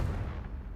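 Blasting spell Confringo cast in Hogwarts Legacy, a single booming low-heavy blast that fills the whole short moment, loud and close with no talk.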